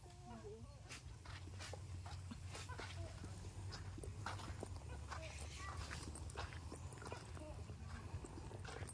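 A dog barks a few times amid busy outdoor noise, with steady low rumble and people talking in the background.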